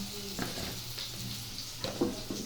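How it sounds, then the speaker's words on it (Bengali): Onions frying in a pan, a quiet steady sizzle with a few soft stirring knocks, close and low in level. "পেঁয়াজটা একটু বেশি ভাজতে হবে"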